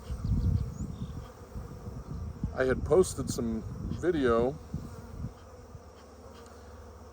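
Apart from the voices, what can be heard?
bees buzzing on a warm day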